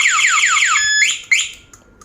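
An anti-theft remote alarm on a Yamaha RX King motorcycle wails in a loud, near series of rapid descending sweeps, then shifts into rising chirps and a steady tone before cutting off.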